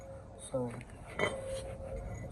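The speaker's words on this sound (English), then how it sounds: "So we got the new hardware here. So we install the new hardware on the bracket." Metal brake pad hardware clips clinking as they are fitted onto a caliper bracket during a front brake job on a Toyota Sienna 3.5, two brief light metallic clicks close up over a faint background hum.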